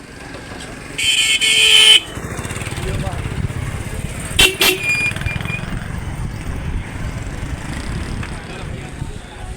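Motorbike ridden through evening market street traffic in Pakistan, its engine a steady low drone throughout, with a loud horn blast near the start and another short honk midway amid street noise.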